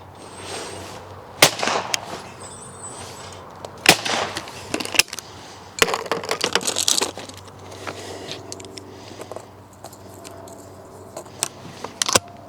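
Sharp shotgun reports from 20 bore and 12 bore guns shot in pairs at clay targets, several loud cracks spaced a second or more apart, fairly close, with no voices in between.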